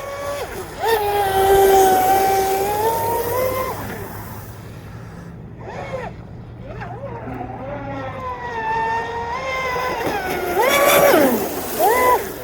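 A small brushless motor on an RC speedboat whines at shifting pitch, rising and falling as it speeds across water, with splashy noise underneath and a brief drop in the middle.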